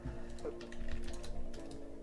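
Typing on a German computer keyboard during a Tibia gaming session, quick soft key clicks in an irregular stream, close and fairly quiet, with a steady background hum.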